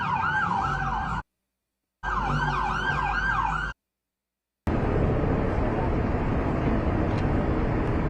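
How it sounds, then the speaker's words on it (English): Emergency vehicle sirens wailing in short bursts broken by silent gaps, a rising and falling electronic tone, loud and close, followed by a noisy passage of traffic or street sound. "All just driving around with their sirens on like they're actually doing something important."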